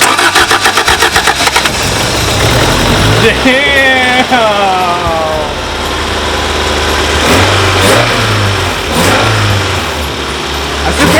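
A rebuilt Toyota AE86 engine cranks with rapid starter clatter, catches, then revs up and falls back several times, loud and close, with excited voices over it.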